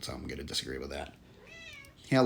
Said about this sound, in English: If you hear a meowing going on, that's our little kitty.